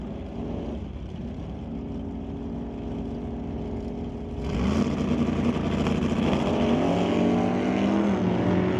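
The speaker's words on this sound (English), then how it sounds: "racing against Craig Johnson for BC Scale Johnson Customs Exhaust in the Malibu wagon" Drag racing at an ET series bracket race, with a Malibu wagon against a wheel-standing Barracuda: engines idle and rumble, then surge into a louder roaring launch about halfway through, held at full throttle to the end.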